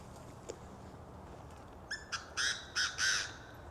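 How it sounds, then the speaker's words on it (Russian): An unusual bird calls on a quiet morning, a handful of harsh, squawking caws growing louder and closer in quick succession after faint earlier chirps. "Сейчас я слышу какую-то необычную птицу."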